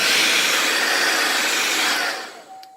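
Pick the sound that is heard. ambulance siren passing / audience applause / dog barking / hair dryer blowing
hair dryer blowing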